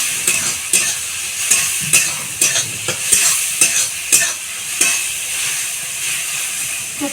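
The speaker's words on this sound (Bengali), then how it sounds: "তো পেঁয়াজ আর টমেটোটা আমার খুব ভালো মতো ভাজা হয়ে গিয়েছে।" Onion and tomato fry in a pan over a wood fire, with a loud, continuous sizzle and a regular series of sharp scraping stirs close by.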